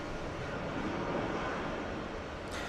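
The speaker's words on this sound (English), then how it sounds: "WestJet taking off. Heading to Calgary." A WestJet airliner taking off at JFK airport gives a distant, steady broadband roar of jet engines, even and unbroken throughout.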